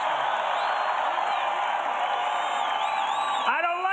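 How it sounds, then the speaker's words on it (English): A large outdoor crowd at a Trump rally cheers and whoops in a steady, continuous roar, with a brief rising swell of voices near the end. "This is a hell of a crowd."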